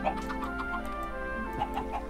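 A chicken in the Minecraft video game clucks repeatedly in short, soft bursts over a steady tonal background of game music, with no voices.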